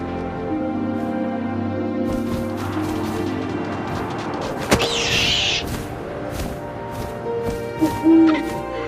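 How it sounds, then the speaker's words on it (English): Owl hooting in the video game What Remains of Edith Finch, a single soft hoot rising over a low whooshing wind bed, with a sharp thud near the middle and a couple of brief knocks toward the end. "And suddenly, I was an owl."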